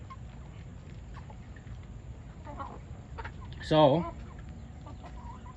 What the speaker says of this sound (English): There go your boy right over there, Rooster Mike, stepping out, checking on the ladies.